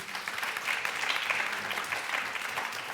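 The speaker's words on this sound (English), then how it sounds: "it's good to hear applause in response to that" An audience at a talk applauds with steady, dense clapping that holds at an even level for several seconds, with no voices over it.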